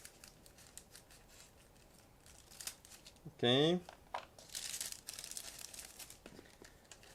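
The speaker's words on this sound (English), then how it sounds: "So just give me a second to cut through this plastic bag" Plastic bag of model kit parts for a 1/35 scale Miniart M3 Lee Early tank being cut open, a brief crinkling snip and rustle in the middle of the clip, followed by more rustling, with a short spoken word nearby.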